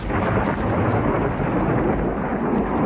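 A thunderstorm rolls on with heavy, steady rain and a deep rumble of thunder. The roar is dense and constant throughout, with no voices.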